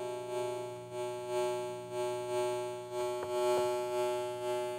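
A sustained synthesizer tone repeats in swelling pulses about once a second, each rising quickly and fading gently, with a couple of faint clicks.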